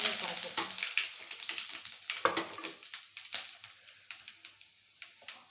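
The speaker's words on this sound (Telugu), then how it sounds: "వెల్లుల్లి, పోపు దినుసులు, కొంచెం చిటపట కావాలి" Garlic, spices and curry leaves tempering in hot oil for a mint, coriander and tomato chutney: loud close crackling and sputtering that settles into scattered sharp pops, with no voices.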